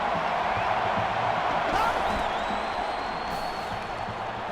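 A stadium crowd in NCAA Football 13 at a Virginia Tech at Florida State game keeps up a dense, steady roar of cheering and noise, loud and continuous throughout, with whistling tones rising over it.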